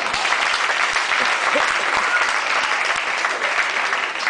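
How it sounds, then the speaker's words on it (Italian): A crowd gathered for a baptism breaks into loud, sustained applause, continuous clapping from many hands filling the whole stretch without a pause. "Applauso!"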